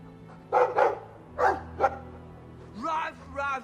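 Dog in the video game Dragon Age 2 giving several short barks and yips in quick bursts, fairly faint, with a low background hum and a brief voice-like whine at the end.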